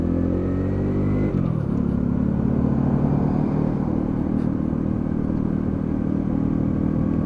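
A Lexmoto Riot 125cc motorcycle engine drones steadily while ridden into corners, close and loud. The pitch drops once early on and then holds an even rumble, with wind noise over it.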